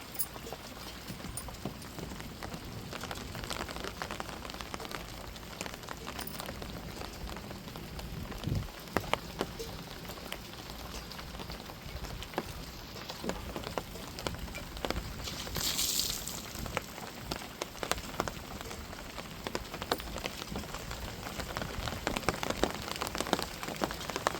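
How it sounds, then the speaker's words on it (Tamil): Steady rain falling at night in a village, a continuous even patter on surfaces with faint wind, lasting throughout with no talking. "மழை பேஞ்சிக்கிட்டு தான் இருக்குது."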